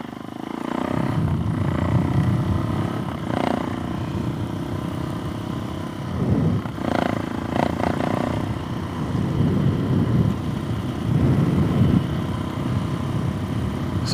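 Suzuki DRZ470 dual-sport motorcycle engine revving on a closed road during wheelies, a steady loud rumble that surges and eases over fourteen seconds with throttle bursts around the middle.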